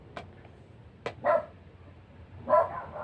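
A dog barks twice, a couple of short sharp woofs about a second apart, fairly close, with quiet background between them.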